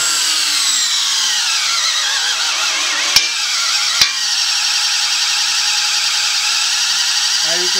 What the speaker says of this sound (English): When punching through stainless steel, turn your drill to the lower speeds and lower torque.